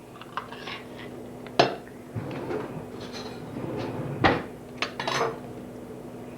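Kitchen utensils clatter during potato mashing with a ricer and butter knife: sharp metallic clinks and knocks of pots, cutlery and cupboards, scattered and fairly close, with little talk.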